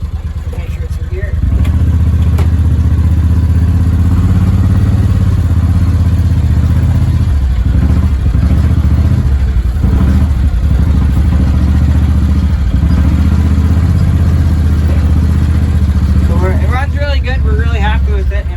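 A John Deere 625i Gator's engine rumbles loudly up close as it drives into a shed, a constant low drone with a few clunks and thuds, while voices talk over it.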